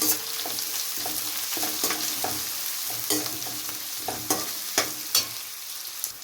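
Curry leaves stirred and frying in hot oil in a pan while making upma, a steady sizzle with repeated scraping strokes of the spoon, close and clear, no talking.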